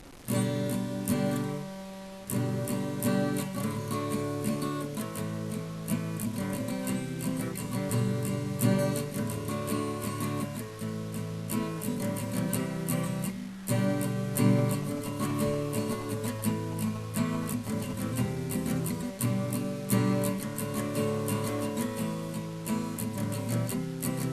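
An acoustic guitar strums a chord progression in a steady pattern, played alone and close up for a long stretch.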